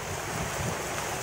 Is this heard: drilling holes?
no